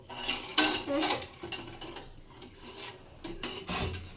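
Dishes and cutlery clink and scrape in irregular bursts nearby, with rubbing and splashing sounds of washing between the clatter.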